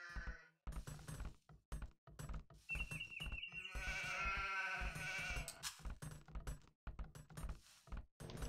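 Sheep bleating in the video game Age of Empires II, with repeated short wavering bleats over a rapid clatter of game clicks and knocks, and a longer bleat in the middle of the clip.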